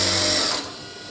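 A sewing machine stitching a trouser gives a fast, steady whirring run, close and loud, that slows and fades near the end as the stitching stops.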